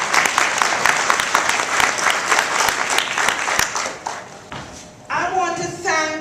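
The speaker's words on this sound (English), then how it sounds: "So we want to really applaud and thank them for those benefits." Audience applause fills a presentation hall at Clayton State University, steady dense clapping for about four seconds that fades out, then gives way to a person speaking.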